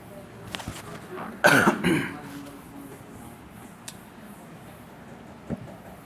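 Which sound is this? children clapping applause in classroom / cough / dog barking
cough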